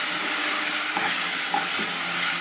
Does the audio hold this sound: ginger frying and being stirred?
yes